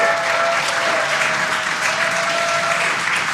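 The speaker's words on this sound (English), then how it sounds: "You can hear the crowd here." An excited crowd cheers and applauds continuously during a Dragon spacecraft splashdown, a dense, steady wash of clapping and shouting with a faint tonal whine running through it.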